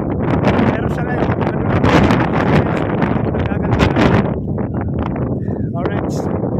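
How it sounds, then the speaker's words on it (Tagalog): Strong wind blows outdoors at a building work site, roaring into the microphone in loud, continuous buffeting gusts throughout. "Dito mahangin, mga kabayani. Naririnig nyo, mahangin."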